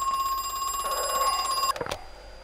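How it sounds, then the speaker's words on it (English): A phone rings in the video game Crow Country: a sustained electronic trill held for well over a second, then cut off by a few sharp clicks as it is answered. "Phone's ringing."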